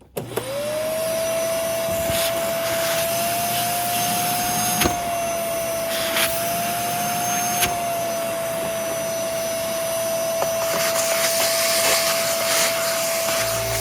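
Compressed air from an air hose roars steadily and loudly against a filthy, clogged Eureka PowerSpeed vacuum cleaner, a continuous whooshing hiss with a sustained whine and a few brief bumps.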